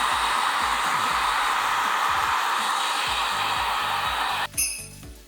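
A hair dryer blowing on freshly dyed hair at a salon, a loud continuous whooshing roar that cuts off near the end, followed by a light clink.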